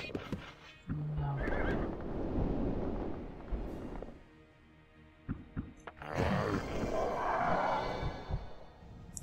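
Horses neigh and whinny repeatedly in the King's Bounty video game, with loud overlapping calls mixed with hoof clatter and a busy, rumbling game soundscape.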